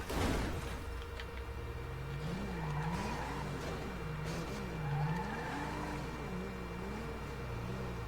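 Sheriff police car engine in Grand Theft Auto V revving in rising and falling waves as it labours over a rise, with tire noise and a rough start, heard alone without talking.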